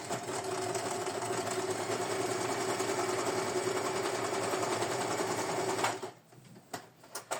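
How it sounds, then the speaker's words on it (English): A sewing machine runs steadily, stitching to attach fabric pieces for a shabby chic embroidered triangle, loud and continuous for about six seconds before stopping, leaving brief faint clicks and handling noises. "And we stitch to attach it."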